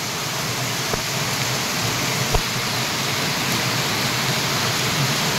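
Heavy monsoon rain falls steadily on a hillside while runoff streams downhill, forming a continuous, even hiss with a couple of faint knocks and no voices.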